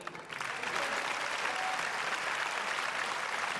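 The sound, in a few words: audience applause at a magic show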